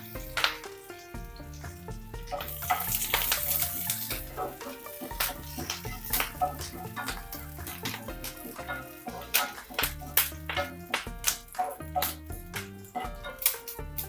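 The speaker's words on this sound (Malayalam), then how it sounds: "ഈ ചൂടായ എണ്ണയിലോട്ട് 2 തണ്ട് കറിവേപ്പില ഇട്ട് കൊടുക്കാം." Two sprigs of curry leaves sizzle in hot oil in a pan, crackling and popping steadily alongside scattered clinks and stirring knocks from cookware.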